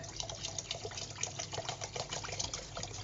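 Dokdin plant liquid pouring steadily over sticky rice to soak it, a continuous low splashing trickle with no talk.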